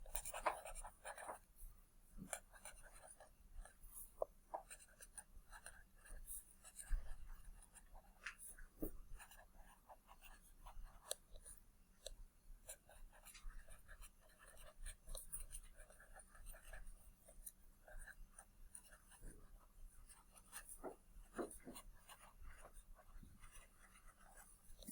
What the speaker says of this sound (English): So I'm writing